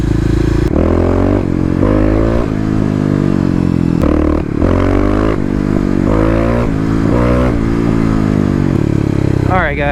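A Kawasaki KLX351 EFI motorcycle engine revs hard and up close, rising and falling in repeated pulls through the gears with a raspy, throaty tone.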